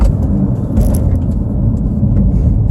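A BMW 435i ZHP engine revving as the driver downshifts through corners, a steady loud rumbling drone throughout with no talk over it.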